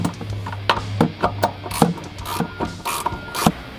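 A ratchet clicks in quick bursts of sharp ratcheting while tightening the bolt that secures an S&B cold air intake air box on a 2015-2017 Ford F-150 5.0L, loud and close with no talk.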